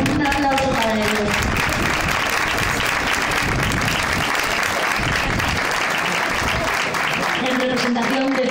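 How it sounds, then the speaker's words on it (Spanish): Steady applause from a crowd at a school Día de Andalucía celebration fills the whole stretch, dense and sustained, with a voice faintly audible at the start and end. "Un aplauso para ellos."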